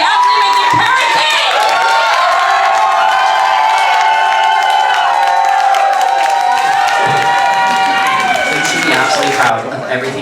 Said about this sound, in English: give an incredible, raucous round of applause for the absolutely amazing Karat!